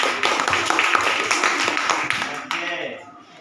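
Children in a classroom clap their hands together in a quick, steady burst of close applause lasting a few seconds, then trailing off as voices take over.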